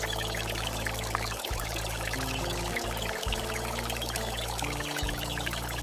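Liquid is poured slowly into marinated chicken for miniature outdoor village cooking, a steady, close gurgling pour that runs unbroken for several seconds with slight shifts in pitch.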